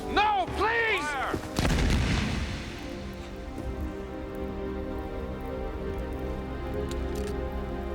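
A firing squad lets off a sharp rifle volley, a single loud blast that booms and then decays into a long reverberant tail, with rain-like crackle lingering afterward.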